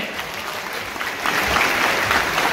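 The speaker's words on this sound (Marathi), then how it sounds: "आज एवढ्या भव्य दिव्य कार्यक्रमाला पक्ष प्रवेशाला जोरदार टाळ्यांचा गजर दे" A crowd applauds at a political party-joining ceremony, steady dense clapping that swells louder partway through and continues without letup.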